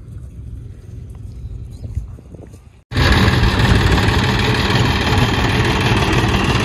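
A tractor with a trolley attached runs at a steady engine drone, first muffled, then abruptly louder and closer after a brief drop, with a constant rough mid-low rumble.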